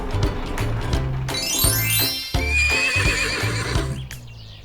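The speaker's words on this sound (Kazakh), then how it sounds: "Жылқы." A horse gives one long, shrill whinny in the middle, set against steady rhythmic clip-clop hoofbeats that run throughout.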